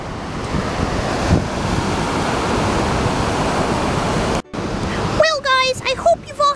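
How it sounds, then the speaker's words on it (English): Ocean surf roars in a steady, loud wash of breaking waves for several seconds, then cuts off abruptly and a voice begins speaking. "We've just been spending the day watching the pretty ocean waves"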